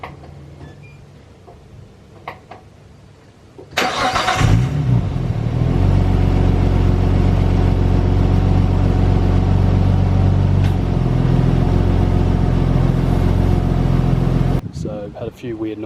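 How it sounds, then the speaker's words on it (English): A Nissan Skyline R34 with a newly replaced turbo cranks briefly and then fires into a loud, steady idle that runs close to the listener for about ten seconds before cutting off. "then from there reconnect the harness and car should start up no worries"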